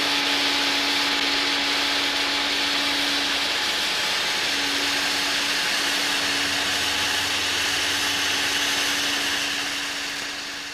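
A domestic vacuum cleaner runs without pause: a loud, steady motor drone with a constant whine and a rushing airflow hiss, heard alone with no talking.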